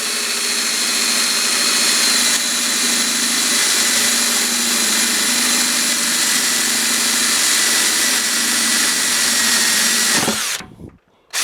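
A power drill whines steadily for about ten seconds, grinding through the plastic of a water butt at close range, then cuts off abruptly.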